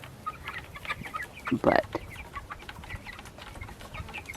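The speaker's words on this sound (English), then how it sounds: "And here we have the meat birds." Broiler meat chickens in a backyard pen give a brief burst of clucking near the middle, with a soft background of fowl chatter around it and a single spoken word.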